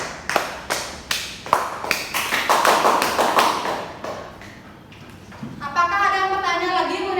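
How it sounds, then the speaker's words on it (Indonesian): A classroom of students claps for a classmate, a burst of overlapping hand claps that swells and then fades, followed by someone speaking. "Beri tepuk tangan untuk Setia."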